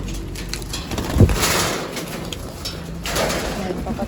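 Pigeons, a pair of birds kept by a fancier, cooing softly at close range, low murmuring calls rising around the middle and again near the end over faint background noise.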